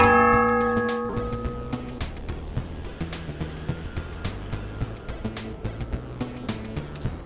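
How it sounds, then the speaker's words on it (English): A heavy bell falls in the co-op horror game Lethal Company, ringing out with a loud struck tone that decays over the first couple of seconds, followed by a run of quieter rhythmic clanks and tonal hits. "All I heard was the bell fall."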